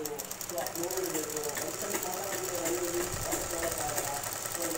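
A sewing machine stitches the kinari edging where a lining joins a blouse piece, a steady fast mechanical whirr running throughout at moderate distance beneath a faint hiss.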